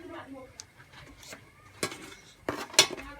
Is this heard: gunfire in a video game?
no